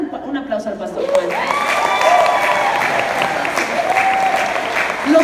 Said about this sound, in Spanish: Dale un aplauso al pastor Juan